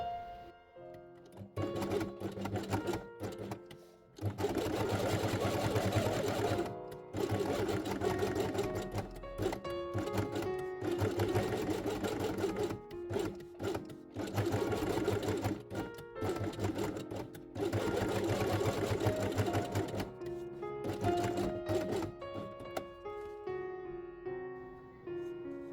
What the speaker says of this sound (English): place on felt in the same color and sew along the edge.